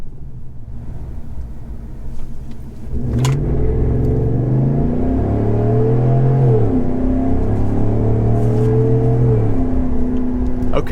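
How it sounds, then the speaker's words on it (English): A GM 6.6L gas pickup truck's Borla S-Type exhaust roars up from idle as it accelerates from a standstill, the engine note rising and shifting through gears, loud and close. "what a lovely exhaust note"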